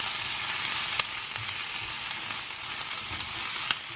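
Onions caramelizing for a sweet and savory curry give a steady, close sizzle and frying hiss in a pan, with a few sharp pops and crackles along the way.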